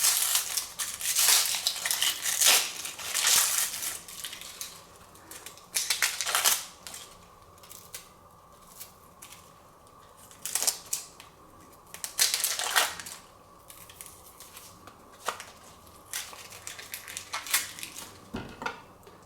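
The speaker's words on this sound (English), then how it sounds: "So we're just cutting the ends off the sweet onion, peeling off the skin" A knife cuts the ends off a sweet onion and its skin is peeled away on a kitchen board, giving irregular crisp chops and crackly tearing bursts, close and moderately loud, with quiet gaps between them and no talking.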